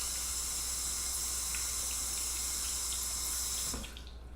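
A makeup brush is rinsed under a running tap, the water hissing steadily and close into a sink before it shuts off near the end.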